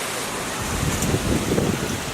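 Hurricane Lane's wind blows in Lahaina, Maui, heard from a hotel during the storm as a constant loud roaring rush with gusty swells and buffeting, with no voices.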